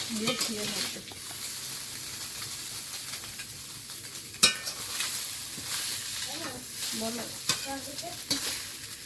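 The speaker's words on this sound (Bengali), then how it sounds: "এই মাছটা একটু হালকা করে ভাজলাম" Fish fries lightly in a pan with a soft, steady sizzle, broken by a few stirring scrapes and one sharp clink of a utensil against the pan.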